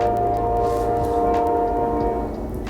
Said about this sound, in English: Loud train.